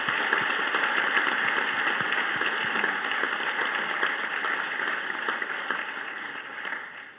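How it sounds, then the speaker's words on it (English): A large audience claps at a university graduation ceremony, dense sustained applause that holds steady and then slowly fades away. "one last big round of applause for the first half of the ceremony"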